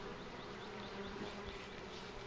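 A dense, steady buzz of many honey bees swarms around an open top bar hive during inspection, faint but continuous with no speech.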